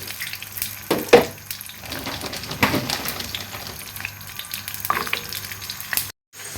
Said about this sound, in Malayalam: ഫ്രോസൺ ഫ്രഞ്ച് ഫ്രൈസ് എണ്ണയിലിട്ടൊന്ന് ഫ്രൈ ചെയ്തെടുക്കണം.